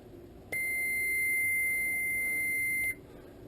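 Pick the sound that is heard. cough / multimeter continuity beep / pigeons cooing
multimeter continuity beep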